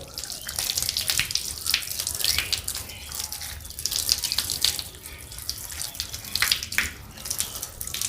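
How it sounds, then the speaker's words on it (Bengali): Tap water runs steadily into a sink while the left hand is washed during ablution, with irregular splashes as the hand moves under the stream and no voices. "এরপর আমরা বাম হাতটা ধৌত করবো"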